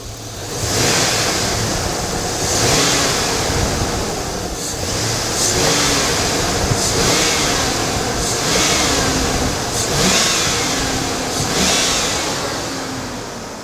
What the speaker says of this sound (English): accelerate, do a couple snap throttles